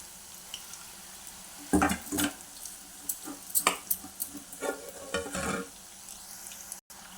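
Punugulu made from leftover rice batter fry in hot oil, a quiet sizzle broken by irregular stirring and scraping clinks, with no one talking.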